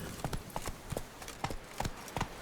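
Horse hooves in The Witcher 3 video game trot in a steady clip-clop rhythm, about two beats every half second, crisp and close with no other sounds.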